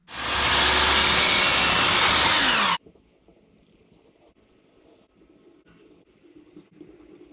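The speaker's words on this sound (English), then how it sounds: "I'm going to cut 3 15-inch pieces from each of them" A saw cuts through pine and poplar boards in one loud, continuous burst of roughly three seconds that stops abruptly, leaving a quiet workshop with faint low rumble.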